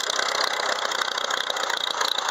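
The engine of a 1940 Farmall A tractor idles low with the choke open after a hand-crank start, a steady mid-pitched chugging that runs unbroken and fairly close throughout.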